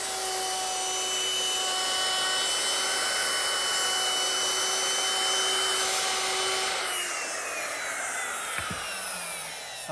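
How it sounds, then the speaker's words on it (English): A router with a 1/4 inch roundover bit shaping the top edges of wooden seat slats, a loud, steady high whine that drops in pitch and winds down near the end. "I'm rounding over the top edges of the seat slats using the same 1/4 inch rounding over bit that I used for the back slats."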